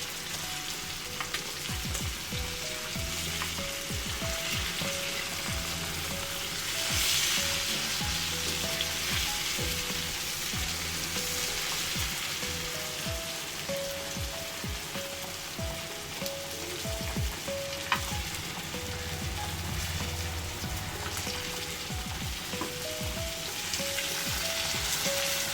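Masala vanjara fish fries in hot oil with curry leaves, giving a constant rain-like sizzle that holds at a steady level for a long stretch, with occasional crackles and soft scraping taps.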